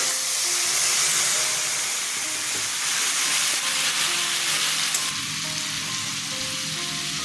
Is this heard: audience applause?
no